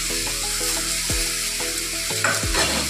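Vegetables, including pumpkin and sweet potato, fry in a pan with turmeric, giving a loud, close, continuous sizzle over a humming background, alone without speech.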